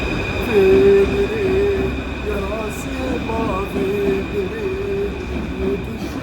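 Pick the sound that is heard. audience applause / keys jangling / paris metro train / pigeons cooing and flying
paris metro train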